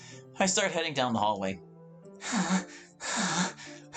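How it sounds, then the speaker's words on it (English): Sharp breathing sounds in a visual novel game: after someone narrates briefly, two loud, breathy noisy bursts follow, each about half a second long, sounding like a sharp inhale drawn through the teeth. "A sharp inhale, like someone is sucking the air through their teeth."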